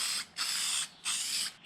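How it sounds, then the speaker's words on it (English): CT R88 coating sprayed from a can onto a cleaned surface in two firm, hissing bursts separated by a brief pause, close and clear with no talking. "and then spray it down"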